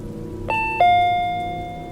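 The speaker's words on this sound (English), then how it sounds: "Then the door chime went off again." A door chime sounds a two-tone ding-dong over a low, steady background, the second note lingering and decaying slowly; no rain is distinctly audible.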